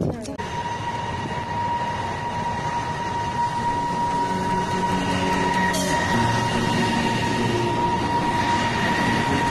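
Train at a railway station on a snowy spring day, a steady close rumble with a sustained mechanical whine running throughout and a brief sharp screech near the middle.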